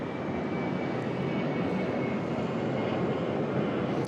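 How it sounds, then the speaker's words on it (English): An air ambulance aircraft running up its engines at Sydney Airport, a steady, loud, broadband roar with a faint high whine, holding constant close by for the whole stretch with no voices. "He's doing his engine runs right in front of our microphone."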